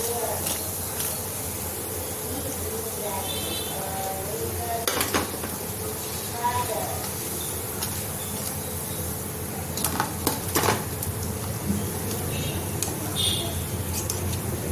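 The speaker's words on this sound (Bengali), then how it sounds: "এইভাবে সব বড়াগুলো ভেজে নেব।" Dahi vada (lentil fritters) frying in a pan, with a steady sizzle of hot oil running throughout, joined by scattered clinks of utensils against the pan and some faint talk in the background.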